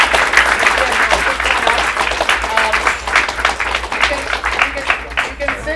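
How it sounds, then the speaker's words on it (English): An audience at a game-industry panel event claps steadily for several seconds, dense sustained applause filling the room, close and loud. "Let's give a round of applause."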